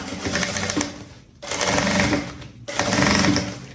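A sewing machine stitches a fabric bag in three loud, close runs of fast rhythmic needle clatter, with short pauses between them.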